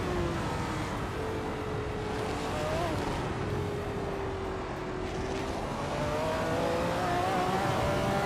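Engine of a 1970 McLaren M8C race car in a racing game, a steady droning roar with pitch slowly rising and falling as it revs, moderately loud and alone.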